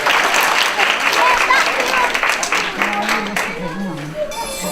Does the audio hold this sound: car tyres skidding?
no